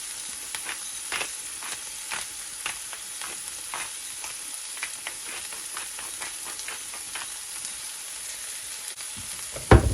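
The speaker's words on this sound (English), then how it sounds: "I'm just going to just saute these until they are cooked." Meatballs sautéing in a skillet give a steady soft sizzle, with irregular crackles and pops spread through, heard close and alone, ending with a louder clatter.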